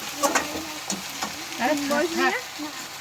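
Chicken pieces sizzle and fry in a pan while being stirred for a spiced chicken curry, a steady crackling hiss broken by scraping stirs, with a voice speaking faintly in the background.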